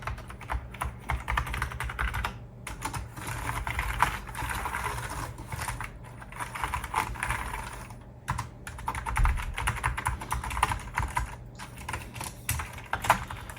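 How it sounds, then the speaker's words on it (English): Rapid, irregular key clatter from a newly unboxed Amiga computer keyboard, steady close-up tapping that carries on for about thirteen seconds with only brief pauses and no one speaking. "Let's do the keyboard, make sure the keyboard, everything seems to be working."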